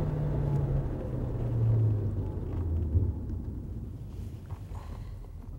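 Ford Focus engine held at wide open throttle while running poorly with low power, a low uneven rumble and drone heard from inside the car that swells and then slowly fades, with no talk.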